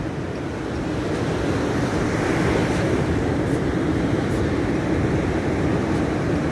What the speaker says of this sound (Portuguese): Olha essas ondas incríveis, lindas, maravilhosas, essa água limpinha, esse mar agitado.